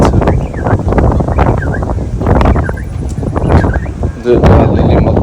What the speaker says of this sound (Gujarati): વાયરો જબરજસ્ત આવી રહ્યો